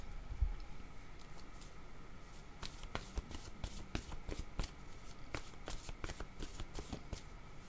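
Tarot cards are shuffled close by in quick, crisp riffles and flicks that grow denser toward the end, heard alone against a low background hiss.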